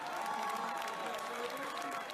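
A crowd applauding in a steady, dense wash of clapping, with a voice talking over it throughout.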